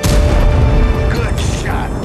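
Tank cannon shot in World of Tanks: a heavy, booming blast at the start that rolls off into a rumbling tail, with game sounds and voices in the mix.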